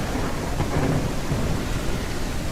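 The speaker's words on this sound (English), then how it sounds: "glad it's thunderstorming" Thunderstorm in the dragon video game Day of Dragons: steady heavy rain hiss with a low rolling rumble of thunder swelling in the first second, continuous and fairly loud.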